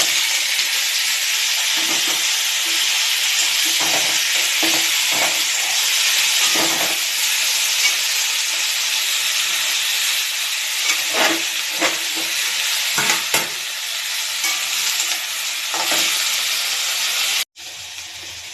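Cut pumpkin hits hot oil with black cumin and fries in a loud, steady, close sizzle and hiss that runs nearly the whole time. Faint stirring knocks show through, and a brief sharp cut comes near the end.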